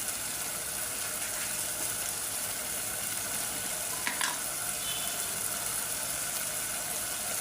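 Ground garam masala and cardamom-cinnamon powder frying in a pan for an egg and chicken curry, a steady close broadband sizzle throughout with a brief clatter of stirring partway through, no talking.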